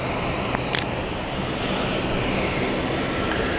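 An aircraft at London City Airport produces a loud, steady engine roar that fills the air without pause, with no voices over it.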